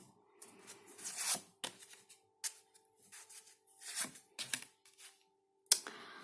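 Tarot cards are shuffled and snapped down in quick bursts of papery riffles and flicks, close by, with short pauses and a faint steady tone underneath.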